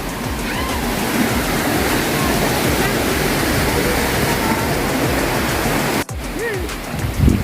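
Water rushes at a resort waterfall at Villa Escudero in Tiaong, Quezon, a loud, dense, continuous roar close by that briefly dips near the end, with voices faintly audible over it.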